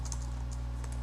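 Fingers type on a computer keyboard in a quiet burst of soft, irregular key clicks over a low steady hum.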